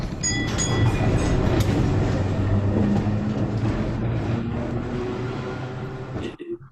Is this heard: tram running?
yes